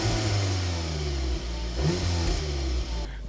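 An Audi S3 8V (2019) engine revs hard against its soft limiter, a loud, steady engine note that dips and surges in bursts, heard close from inside the car.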